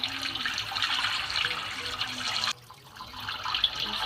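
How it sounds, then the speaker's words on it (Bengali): Raw beef for a Bangladeshi beef bhuna being rinsed under a running tap in a sink, a steady close hiss and splash of water that breaks off briefly partway through and then resumes. "এবার আমি মাংসগুলো ধুয়ে নেব"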